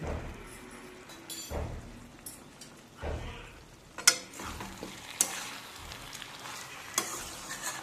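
Masala with a spoonful of sugar frying in a pan for a Bengali potol and prawn dish, stirred in irregular scraping strokes over a steady close sizzle, with a few sharp clinks of the spoon against the pan.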